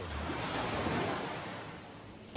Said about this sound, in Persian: صدای دریا